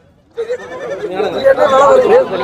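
Young goat kids bleat amid the bustle of a livestock market, several overlapping cries rising over steady crowd chatter and people talking nearby, growing louder after a brief quiet start.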